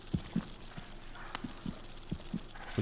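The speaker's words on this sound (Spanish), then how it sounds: "Escucho el latido de algo" A faint, steady heartbeat pulses in Hollow Knight, regular paired low thumps repeating about every half second over quiet ambience.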